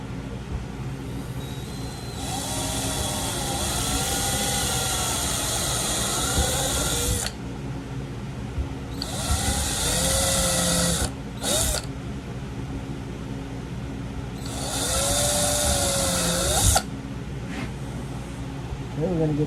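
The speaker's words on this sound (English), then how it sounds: "I'm going to go ahead and pre-drill the holes." A power drill with a starter bit pre-drills holes in Kydex, loud high whining bursts of several seconds each, three main runs separated by short pauses, with a lower motor hum running underneath.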